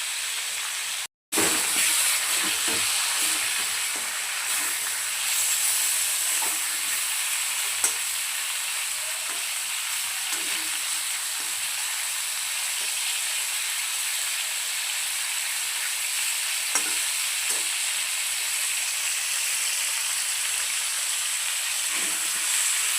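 Surmai fish, Malvani style, fries in a pan with a loud, steady, close sizzle and hiss that runs on for over twenty seconds, broken by a sudden short gap near the start and light occasional taps, without any talking.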